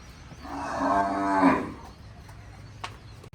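A single long, low moo from a Kankrej cow, rising and then fading, heard nearby on a farm, followed by quiet background rustling.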